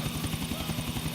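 A helicopter in GTA IV flies fast with a steady, close rotor chop: rapid, even thumping pulses over a constant engine whine, with no break.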